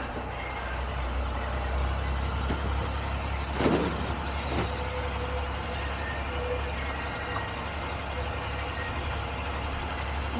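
An American school bus converted into a skoolie drives around a roundabout in France, a steady, loud engine drone with road rumble throughout, a couple of brief knocks, and no talking.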